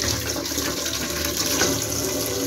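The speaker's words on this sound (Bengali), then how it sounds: "ডিমগুলো ধুয়ে নিব, ডিমগুলো ভিজায় রাখি, তারপর ধুয়ে নেই।" Tap water runs steadily and loudly while eggs are washed in a village kitchen, a continuous splashing rush with no talk.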